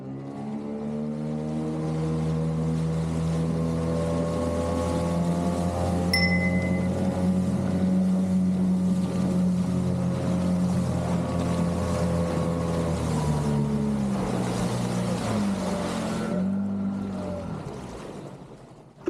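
An outboard motor roars steadily on a small aluminum dinghy, its pitch climbing as it accelerates onto a plane, then easing off near the end with water rushing.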